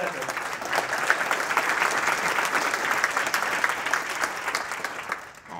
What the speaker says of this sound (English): let's give a warm round of applause to our next presenter.